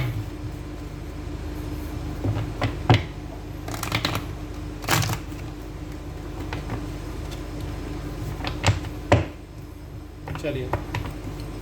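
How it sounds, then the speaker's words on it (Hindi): Tarot cards being shuffled by hand, with repeated soft riffling bursts and scattered taps at close range over a low steady background hum. "कार्ड्स को शफल करना शुरू करते हैं"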